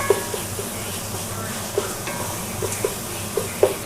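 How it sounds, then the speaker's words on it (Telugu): Ginger garlic paste fries in a pan while khichdi is being cooked, giving a steady sizzle. A spoon scrapes and stirs through it now and then, sending a few light metallic clinks over the frying. "అల్లం వెల్లుల్లి పేస్ట్ వేసేసుకుందాం ఇది కూడా కొంచెం ఫ్రై అవ్వాలి"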